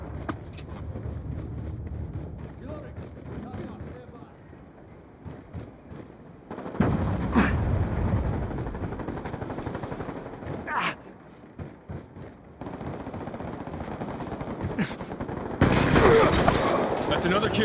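Pistol fire in a shooter video game comes in short bursts of sharp shots, separated by quieter stretches, with voices talking at times.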